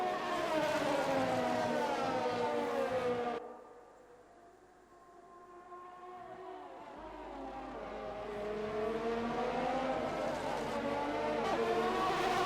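Formula 1 cars racing over kerbs on the inside at the Japanese Grand Prix in F1 2020: high whining engine notes, a brief dip to near quiet, then engines swelling back up loudly, with no talk.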